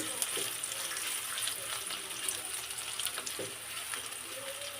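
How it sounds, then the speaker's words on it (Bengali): Sliced onions frying in hot oil in a pan that earlier held fish and eggplant, a continuous soft hiss and sizzle with a few light scrapes, a fairly quiet home cooking scene. "ভাজি করে নেওয়ার পর এখন আবার তেলটা দিয়ে পেঁয়াজ দিয়ে দিলাম পেঁয়াজটা একটু ভাজি করে"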